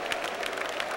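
A church congregation claps together during a Spanish-language worship service. The claps come in a lively, fairly regular rhythm that sounds close and full, with no speech over them.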